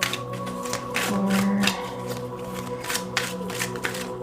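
Tarot cards are shuffled by hand in a quick series of soft riffling flutters and taps, close and clear, with no talking over them.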